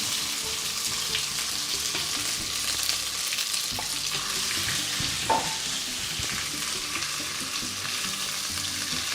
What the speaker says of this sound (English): The next step is to fry the blended ingredients, or the pounded ingredients rather.